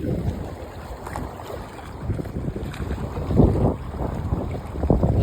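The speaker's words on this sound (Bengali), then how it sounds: "আজকে যে প্রচুর তুফান আছে গায়ে।" Strong stormy wind buffets a riverside shrimp market, a steady rough rumble of gusts on the microphone with faint water and boat sounds beneath, swelling louder near the end, with no talk.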